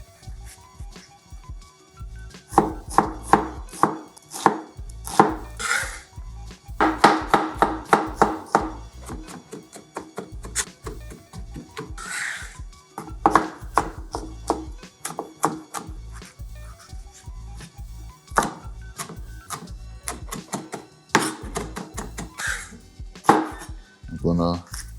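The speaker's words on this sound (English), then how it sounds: "I want to dice one large onion" A knife dices a large onion on a wooden board in quick bursts of sharp, close chops, pausing between rounds of cutting.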